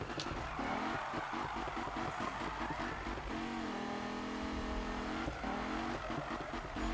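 A racing car engine in the Need for Speed video game roars steadily, its pitch climbing and dropping through gear changes with a buzzy, rapid pulse, loud and close without any talk.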